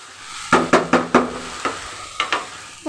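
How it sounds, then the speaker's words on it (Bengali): Rice being dry-fried with salt and sugar in a pan, heard as a series of sharp rhythmic scrapes and knocks of a utensil stirring, about eight strokes, close and fairly loud. "আমি চালটা ভাজা নিই"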